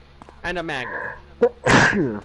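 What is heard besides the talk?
sneeze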